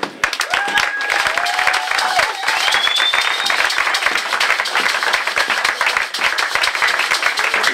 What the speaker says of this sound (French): J'aimerais que nous puissions acclamer les rois du ciel